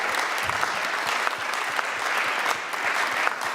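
An audience at an Occitan-language talk show claps continuously, a full, dense wash of applause at steady loudness from start to finish.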